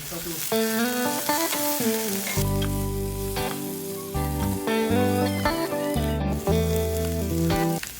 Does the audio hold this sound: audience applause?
no